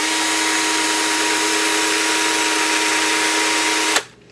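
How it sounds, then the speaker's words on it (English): A Ballistic Products roll crimp tool spins against a 10 gauge shotgun shell with a loud, steady, whirring drone that holds for about four seconds and then cuts off abruptly. "I'm using the Ballistic Products 10 gauge roll crimp tool."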